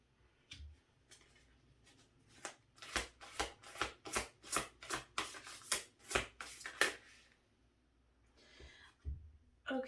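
A rapid series of crisp tarot card riffles and flicks, about a dozen quick bursts in a row, close by, with brief pauses before and after.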